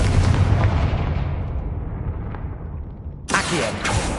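The Confringo blasting spell goes off in Hogwarts Legacy as a heavy, rumbling explosion that slowly fades away, then a second sharp blast bursts in near the end, with no speech.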